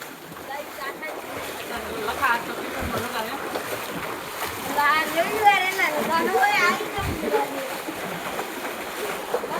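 Rainwater flooding a village street during the monsoon, a steady wash of flowing and splashing water with children playing and shouting nearby and people talking over it throughout.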